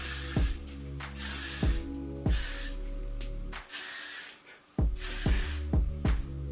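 Several short hissing bursts from a can of hair spray applied to a wig, close up, one longer blast in the middle, with low knocks between sprays and no talking.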